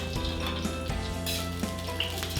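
A tablespoon of coconut oil sizzles in a pan ready for stir frying, a close, continuous hiss with a few small clicks and a faint ringing tone running underneath.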